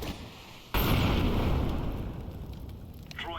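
A thrown incendiary grenade in a tactical shooter game ignites with a sudden loud whoosh and burst, followed by a sustained roaring burn that slowly fades.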